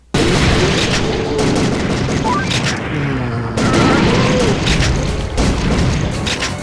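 Shotgun blasts at zombies in The House of the Dead 3, loud booming shots in quick succession over game noise and growls, dense and close throughout.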